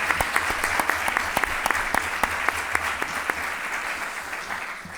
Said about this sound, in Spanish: yo quiero un aplauso para ella